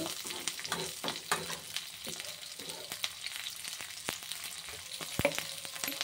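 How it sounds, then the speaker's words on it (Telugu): Onions sizzle and crackle in a pan for onion chutney, a close, continuous frying hiss broken by frequent spatula scrapes and stirring clicks. "చూసారా ఎలా వేగుతున్నాయో. ఇంకా ఒక్క నిమిషం వేగాలి."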